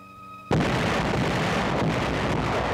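Allied artillery guns open fire at night in Italy, a sudden loud blast after a brief quiet hum, followed by a sustained heavy roar of continuous gunfire rumbling on to the end.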